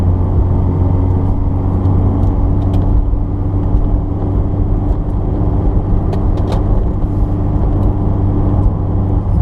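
Honda S2000, a rear-wheel-drive sports car, driving in the rain, its engine a steady low drone and rumble heard from inside the cabin throughout, with a few faint ticks over the continuous road noise.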